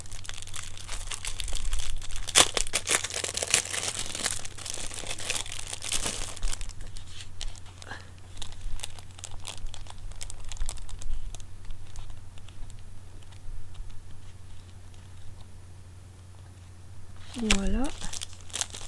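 Packing paper crinkles and rustles in bursts while a Temu haul is unpacked, close and fairly loud at first, then quieter handling with scattered crackles and a short vocal sound near the end; speech is present at moments.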